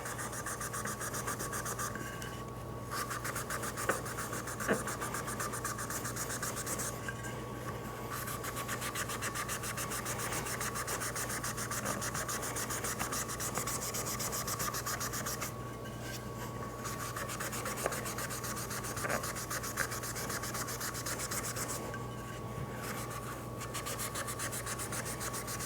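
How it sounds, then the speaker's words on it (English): A folded Scotch-Brite pad scuffs a powder-coated tumbler, working into its groove with a steady, close, continuous rubbing rasp broken by brief regular pauses. "my Scotch-Brite over and try to get into that groove as best as I can to make sure I get a good scuff"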